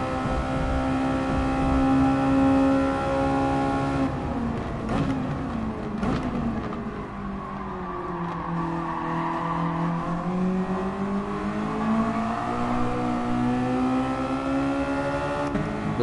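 A race car engine in Gran Turismo Sport, driven with Thrustmaster load-cell pedals, revs loudly and continuously; its pitch climbs, dips through shifts and swells again, with faint tire noise beneath.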